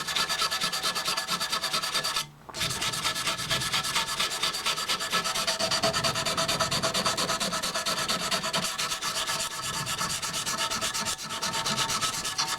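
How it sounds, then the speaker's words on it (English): Sandpaper rubbed by hand along a bushcraft knife, a close, rapid, steady back-and-forth rasping that keeps an even rhythm, broken by one brief pause; no talking. "When you get it where you want it, then you start with your sandpaper."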